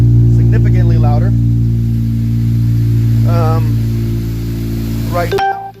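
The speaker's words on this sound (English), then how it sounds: "I'm going to go ahead and start the car and see if I have any exhaust leaks" A car's engine idles loudly and steadily just after a new PRL downpipe and frontpipe exhaust install, with a deep continuous drone, someone talking over it, and the engine cutting off near the end.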